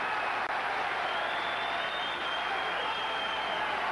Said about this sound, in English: The hand clapping and the whistling